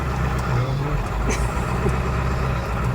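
A loaded farm vehicle hauls a load of dirt across a bumpy pasture. Its engine rumbles low and steady and close by, with the rattling and jostling of the ride.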